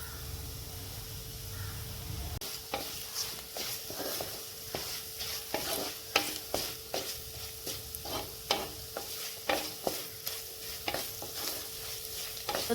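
Spice powders (turmeric, chilli, coriander, pepper) being stirred in a hot pan for a stingray fish roast, with a steady series of spoon scrapes and clicks over a soft sizzle, close and moderately loud, no talking.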